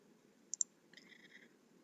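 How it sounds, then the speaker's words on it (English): Two quick, crisp mouse clicks in close succession on a quiet desk, followed by a faint short tone. "So I'm just going to click on the save icon on my quick access toolbar"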